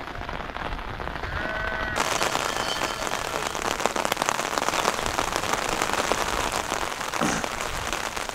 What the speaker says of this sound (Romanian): Așa stați în ploaie de parcă nici nu plouă